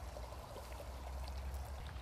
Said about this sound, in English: a lovely flat expanse of water, simply raised from the ground, with water trickling over slabs